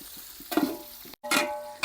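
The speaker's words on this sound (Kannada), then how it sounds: "ಅದಾದ್ಮೇಲೆ ಮಶ್ರೂಮ್ ಹಾಕೊಳ್ಳೋಣ" Mushrooms go into a pan of frying, browned onions, raising a close hiss of sizzling along with a couple of stirring scrapes, broken by a brief pause before the frying rushes back in.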